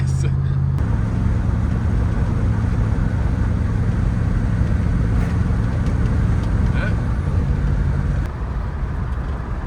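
A turbocharged police car engine making over 550 horsepower rumbles loud and steady from inside the cabin, a continuous drone that settles slightly lower near the end.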